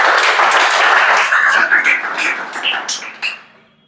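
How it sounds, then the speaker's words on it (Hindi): A classroom of students claps together in a dense burst of applause that thins and trails off into scattered claps before stopping. "ताली बजाओ एमन के लिए।"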